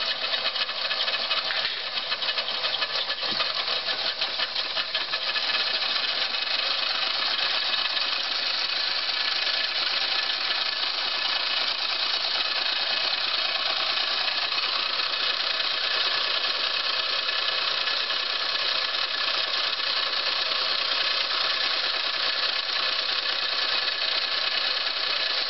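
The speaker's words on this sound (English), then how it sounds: "That motor is spinning." Small motor spinning near a model steam engine, a steady, even whirring drone held at constant loudness for the whole stretch, with no talk.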